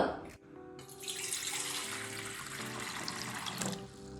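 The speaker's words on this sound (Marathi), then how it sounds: "आता आपण हे पाण्यात धुवून घेऊयात" Wood apples are rinsed under a running kitchen tap, giving a continuous close splashing gush that starts after a brief clatter and holds steady for several seconds.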